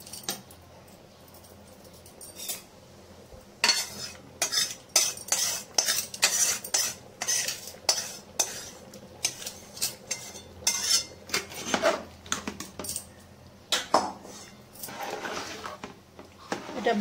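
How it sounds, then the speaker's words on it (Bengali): A spoon stirs Badshabhog rice and moong dal khichuri in a metal pot, making busy clattering scrapes and knocks against the sides that come in quick, uneven bursts, close and fairly loud, with no talking. "এটা একটু বসে যাবে, তাই একটু নেড়ে নিচ্ছি ভালো করে।"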